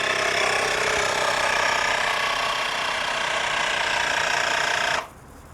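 An electric foam sprayer pump pressurizing, giving a loud, steady broadband whir and rattle for about five seconds before cutting off abruptly, leaving quiet.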